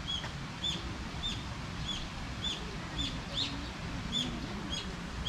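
Pigeons calling outdoors at a garden in Matsue, Shimane, on a rainy, windy day: a steady series of short, repeated bird calls at a regular rhythm, moderately distant, over a constant background of wind and rain noise.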